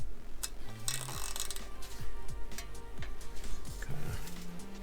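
A 10 millimeter socket ratchet clicks in short, quiet bursts of rapid pawl ticks, pausing between strokes, as it tightens the fender bolts on a Velotric Fold 1 Lite folding e-bike.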